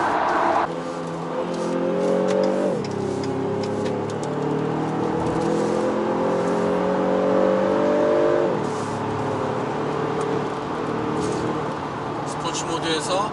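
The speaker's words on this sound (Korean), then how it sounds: "엔진 사운드가 귀에 착착 감기는 소리여서 가속의 즐거움을 좀 더 키워준다" A Renault Samsung SM6 car engine revs up through the gears in sport mode, pitch climbing, dropping at each shift, then climbing again, heard steadily from inside the vehicle.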